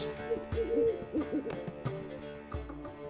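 An owl in The Witcher 3 video game gives a run of short hoots in quick succession, close and clear over a quiet background.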